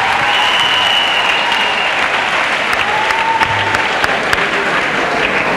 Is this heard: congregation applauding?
yes